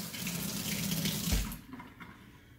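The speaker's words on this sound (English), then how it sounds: "and then I'm going to rinse that off." Tap water runs steadily over a 1983 MacGregor M85 Colokrom golf club head as it is rinsed after copper brush electroplating, a close splashing hiss that cuts off partway through, leaving quiet room tone.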